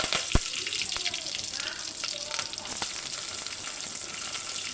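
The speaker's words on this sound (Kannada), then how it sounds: "ಈಗ ಚಟಪಟ ಆಯ್ತು ಜೀರಿಗೆ ಸಾಸ್ವಿ ಬೆಳ್ಳುಳ್ಳಿ ಕರ್ಬೇವು ಕೊತ್ತಂಬರಿ ಹಾಕೊಳ್ತಾ ಇದ್ದೀನಿ" Cumin, mustard seeds, garlic, curry leaves and coriander crackling in hot oil for a North Karnataka coconut saaru: a soft, steady sizzle with a few sharp pops and clicks, and a faint splash of water in the background.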